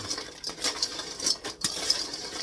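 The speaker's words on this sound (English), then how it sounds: "Just keep bringing the ones up from the bottom up to the top. Mix them real good." Habanero ranch seasoned pretzels tossed in a bowl, quiet dry rattling and clinking as pieces are turned up from the bottom, with scattered sharper ticks against the bowl and no talking.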